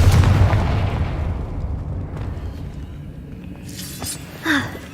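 Confringo fire-blast spell going off in Hogwarts Legacy, a loud booming burst that rolls away into a fading rumble, followed by a quieter magical whoosh near the end.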